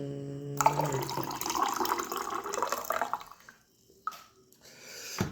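Water poured into a container in a steady splashing stream that lasts about three seconds, then stops, followed by a single drip and a brief clink near the end.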